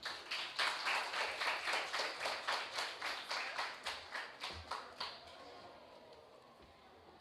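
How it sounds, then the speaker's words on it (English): An expo audience claps in a steady, rhythmic unison beat of about fourteen claps at a moderate distance, then the clapping stops and a quieter room murmur remains. "can we give a bigger round of applause, please, to Mr. Rory Stennett, Customer Service Director?"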